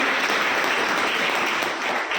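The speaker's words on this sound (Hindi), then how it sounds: "जोरदार तालियां होनी चाहिए इन सब लोगों के लिए" A gathered audience gives loud applause to newcomers at a meeting, a thick, continuous wash of clapping that fills the short stretch and stays steady throughout.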